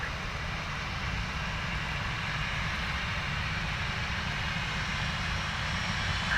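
A jet airliner's engines roar steadily at distance during takeoff from runway 10 right at Dublin Airport on a murky day, a broad continuous rumble with no voices.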